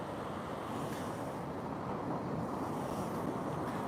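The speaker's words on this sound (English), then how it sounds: "A little bit windy, but nothing to worry about. Just a tiny wind." Steady wind blows and rumbles across the microphone on the shore at Bacton, North Norfolk, during sea fishing, a continuous broadband rush with soft surf underneath and no voices.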